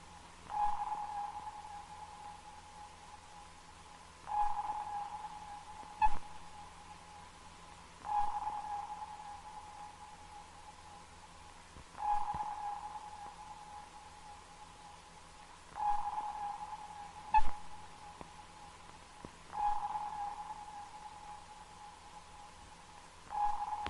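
A 1943 Type 144 ASDIC naval sonar set sweeping for a target, a regular series of about six tonal pings several seconds apart, each with a short fading echo, over a low steady hum.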